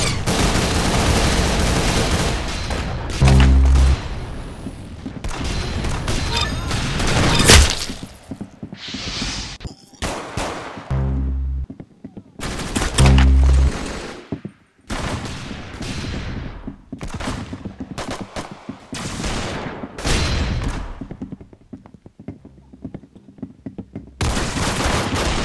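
Loud, dense gunfire from a shooter video game, with sustained rapid bursts, booms and shattering impacts, broken by short pauses.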